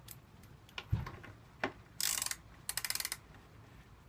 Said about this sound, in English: tighten the wheel back up